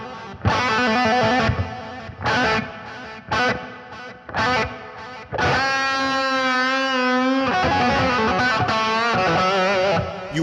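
Distorted electric guitar through a Gamma G25/G50 amp with reverb and delay plays choppy chords and then a sustained ringing chord, with effects and echo trailing each strike, loud and close.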